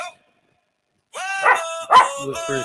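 Dogs bark in a quick series of sharp, close barks, some high and yelping, after a moment of near silence.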